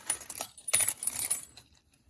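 A bag full of old keys jangles in a craft room, with bright metallic clinks in two or three quick shakes that fade out at the end, with no talking.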